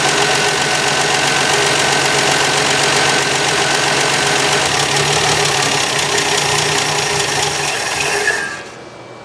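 Classic car that sat for years, its engine running rough on five of six cylinders with one spark plug wire off, a loud steady uneven knocking idle close by that drops away abruptly at the end.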